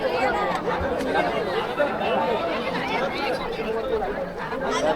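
Dense crowd hubbub at the Ekvira temple, with many voices chattering together in a steady, loud babble that fills the whole stretch, close around the listener.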